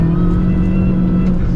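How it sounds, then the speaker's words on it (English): An R53 Mini Cooper S engine hums steadily while driving, with a sustained supercharger whine riding over the low engine drone, loud and close throughout. "the families here are listening out to supercharger whines"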